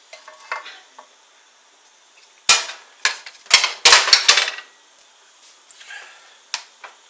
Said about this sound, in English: Now we're going to mix the meat in with the sauce.